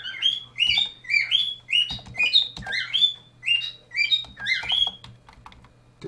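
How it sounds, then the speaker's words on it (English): A bird chirps close by in a series of quick, repeated high tweets in a steady rhythm, with faint clicking in the background. "I'm sorry about the bird."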